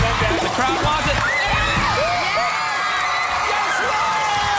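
Studio audience of a game show cheering and whooping continuously, loud and close, with mixed yells and shouts over a dense crowd roar.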